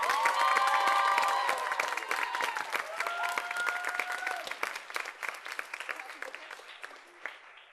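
An audience claps warmly for a student director at a cabaret charity show, sustained close applause with a few cheers and whoops that gradually thins out.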